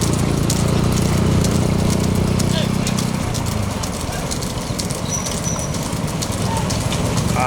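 Bulls pulling a cart in a bullock cart race near Lakshmipuram thunder past close by, a dense low rumble of hooves and wheels that eases after a few seconds into steady crowd and motion noise.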